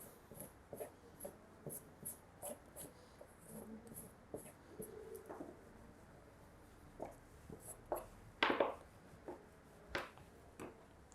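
A comb is drawn through frayed macrame cord fringe to shape a feather leaf, giving soft, quiet scratchy strokes in an uneven rhythm, with a slightly sharper brushing swipe near the end.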